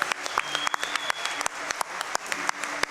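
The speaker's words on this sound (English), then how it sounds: "Can we get one more round of applause for our runners?" A crowd at AGDQ 2018 gives a round of applause for speedrunners; scattered, distinct claps ring out at a moderate level, with individual hands standing out rather than a dense roar.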